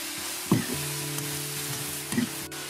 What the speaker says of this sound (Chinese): 把洋葱丝和羊肉块翻炒在一起